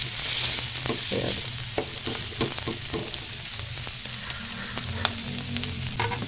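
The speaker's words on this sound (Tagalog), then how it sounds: "So haluin lang natin para maluto yung ating sibuyas at luya." Onion, ginger and garlic frying in a pan for dinuguan, a constant sizzle broken by a steady rhythm of close spoon or spatula scrapes as the mix is stirred, no talk.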